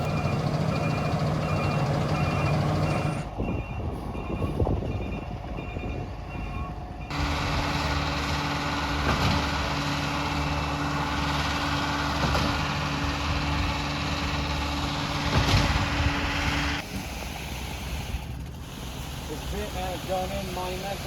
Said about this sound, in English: what we did was get a pumper truck and then bring the cement truck down just a little ways on the access road